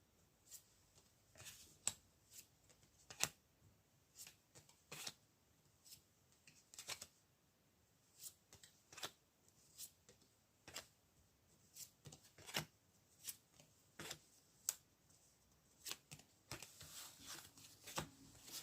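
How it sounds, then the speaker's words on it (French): Tarot cards being shuffled and drawn at close range, making soft repeated riffles and snaps that come in quick irregular bursts throughout, quiet and with no voices. "Donc on va quand même tirer des cartes dessus."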